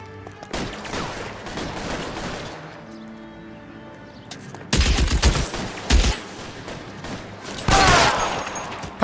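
Gunfire in the detective game L.A. Noire: a quiet stretch gives way to loud, close bursts of shots and crashing impacts, in rapid volleys with a short pause between them.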